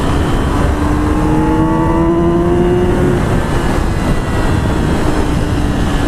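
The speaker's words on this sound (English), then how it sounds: "I love the sound of the engine. And that screams. It's like a howl." A Yamaha R6 sport motorcycle engine drones loudly and steadily with a rising, whining tone, sustained throughout without any speech.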